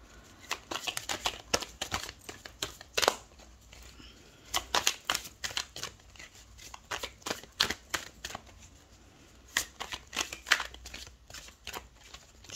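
Tarot cards are shuffled and drawn by hand in a quiet room, giving bursts of sharp riffling and flicking that come in irregular clusters with short pauses between them, close and fairly soft.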